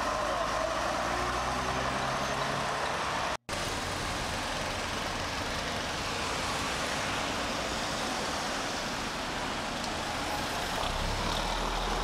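A bus pulls out of the Potters Bar bus garage during an open day, its engine a steady broadband rumble and road noise that stays loud and constant, broken only by a brief dropout partway through.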